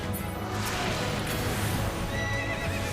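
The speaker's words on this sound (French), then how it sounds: "j'ai entendu un cheval" A horse whinnies loudly amid busy Final Fantasy XIV game noise, with a hoof clatter and a constant dense background of sound effects.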